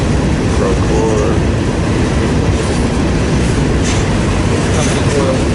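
Conrail freight train rolling past on the Fort Wayne Line, a loud continuous roar of wheels and rail noise at close range, with faint squeals and muffled voices underneath.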